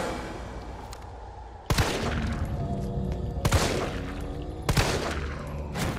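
Gunfire from the video game Resident Evil 3: three loud, sharp shot bursts at roughly even intervals over a busy game soundscape with lingering echoes and background ambience.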